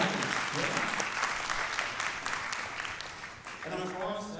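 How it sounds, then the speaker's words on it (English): Audience at a corporate outlook event giving a round of applause, a full, steady patter of many hands clapping that eases slightly near the end as a voice begins speaking over it. "I think this deserves a round of applause."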